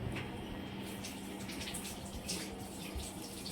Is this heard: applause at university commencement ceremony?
no